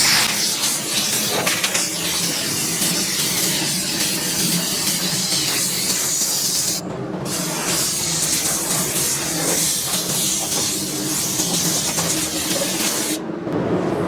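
Spray gun laying base coat blender on a spot repair of a Ford F-150 in Ruby Red: a steady, loud airy hiss runs continuously, with two brief pauses in the spray, close up and without talk.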